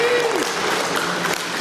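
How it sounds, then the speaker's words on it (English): An audience claps in a broad, even patter, with a brief voice over the opening moment before the applause carries on alone. "Can we give them a round of applause?"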